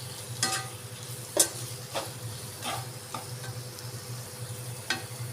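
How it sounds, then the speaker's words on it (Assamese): A spatula stirs paneer, capsicum and onion in a kadhai, the scrapes coming as sharp irregular clinks over a quiet, continuous sizzle of frying, close and without talk. "এতিয়া মই খুব ভালদৰে লৰাই ল'ম আৰু ইয়াত অকণমান পানী দিম।"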